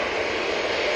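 A Brussels Airlines Airbus A320 at Manchester Airport gives off an unbroken jet engine roar, loud and even throughout, heard alone without speech.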